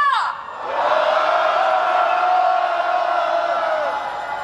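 A rally crowd in Incheon roars together in a sustained shout and cheer at a candlelight protest, the massed voices swelling after a brief dip and holding loud and steady for several seconds before easing off.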